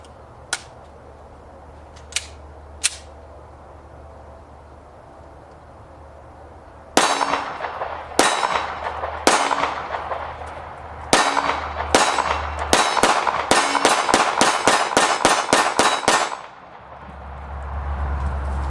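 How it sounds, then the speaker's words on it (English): A new Taurus G3 9mm pistol fires its first shots: three spaced sharp cracks, a pause, then a rapid run of about fifteen loud, ringing reports before the shooting stops. "Haven't fired it yet, so this will be the very first shot."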